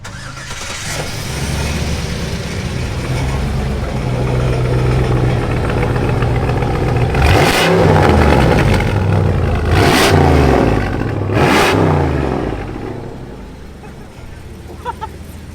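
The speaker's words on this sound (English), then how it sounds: "This thing makes so much sound when you when you accelerate it." A converted 6x6 Jeep Gladiator engine cranks over and settles into a loud, rumbling idle. Three sharp revs follow, then the engine drops back to idle, with people talking over parts of it.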